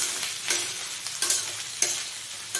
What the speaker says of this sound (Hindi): अब हम इसको चला देंगे।